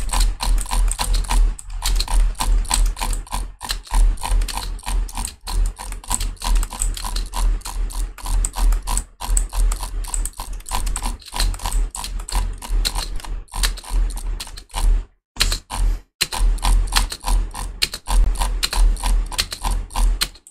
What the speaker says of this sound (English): you can hear my drag clicking